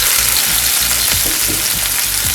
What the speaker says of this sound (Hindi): इसको हम हल्का फ्राई करेंगे।